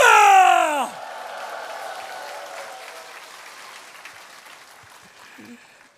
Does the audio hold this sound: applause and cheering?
yes